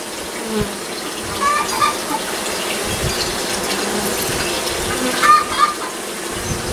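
A soft, constant buzz of many bees clustered on a possum box hums close by, with occasional louder passes and a voice speaking faintly.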